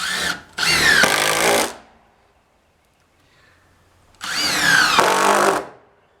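A power drill drives screws into a walkway board in two loud, close bursts of about a second each, separated by a few seconds of near silence.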